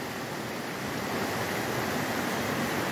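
River water rushes steadily near the Los Robles waterfall, where one river splits upstream and rejoins further down; a dense, constant broadband roar fills the whole stretch with no voices.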